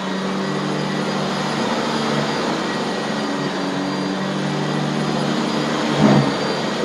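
A Shark vacuum cleaner fitted with a VG2 brush roll, no power assist, runs with a steady, loud motor whine and airflow roar, holding constant throughout with a brief surge near the end.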